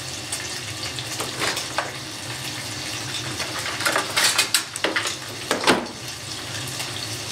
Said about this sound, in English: I'm going to stir my bacon here.